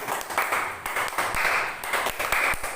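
Group of women at a stunting-prevention community session clapping together, sharp irregular claps merging into a dense patter with a few louder accented hits, close and lively.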